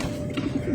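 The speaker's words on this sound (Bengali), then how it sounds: "এই যে এগুলো হচ্ছে মাদি কবুতর" Female pigeons cooing in a short burst of soft, low murmuring calls, fairly close and steady, with no talking.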